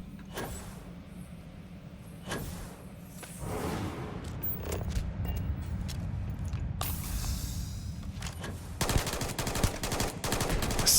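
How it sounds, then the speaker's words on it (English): Sniper rifle shots in the Starfield video game on very hard mode, a series of sharp broadband cracks scattered across the clip with a denser burst of rapid fire near the end, over a steady low rumble of background game sound. "When they're plinking sniper rounds at me."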